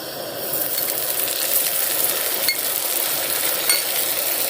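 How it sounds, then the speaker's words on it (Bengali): Garlic paste hits onions frying in a pan with a steady close sizzle and hiss, joined by a few faint scrapes and clinks of a utensil, with no talking. "রসুনের পেস্টটা দিয়ে দিচ্ছি"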